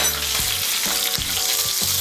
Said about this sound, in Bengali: এখন এর মধ্যে আমি দিয়ে দেব পেঁয়াজ কুচি।